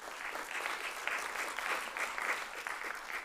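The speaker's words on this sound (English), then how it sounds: "Another loving and supportive round of applause" Applause from the audience at an awards ceremony, a steady wash of many hands clapping, fairly faint and distant, holding at an even level throughout.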